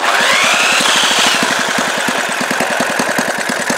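Briggs-style mystery stationary engine running with no spark lead, a loud, steady, rapid knocking beat with hissing mechanical noise above it, close up and continuous throughout.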